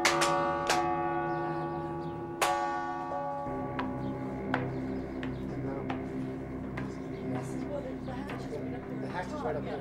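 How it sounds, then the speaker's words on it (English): A big church bell in a Newfoundland bell tower rings with a few loud, sharp strikes that leave long ringing overtones, followed by lighter tapping knocks while voices speak nearby. "Bell coop, right here. This is the big bell."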